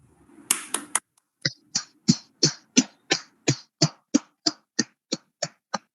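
A class of students clapping for a pupil named Aditya: a brief burst of mixed applause, then about fifteen evenly spaced, loud single claps in a steady slow rhythm, no talk.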